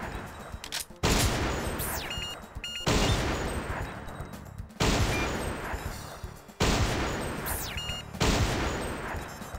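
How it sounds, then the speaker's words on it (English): Repeated bursts of loud gunfire in Silent Scope, four heavy shots spaced about two seconds apart, each crashing in sharply and decaying into echoing rumble. "you can get more points by shooting the guns"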